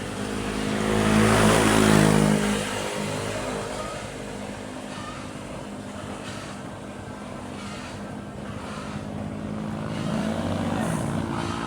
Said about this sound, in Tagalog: Truck na naman, mga katambay.